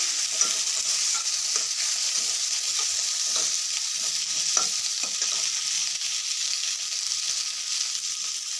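Onions and tomatoes fry in a pan with a loud, steady hiss of sizzling that goes on the whole time. Soft stirring scrapes come through underneath, and there is no talking.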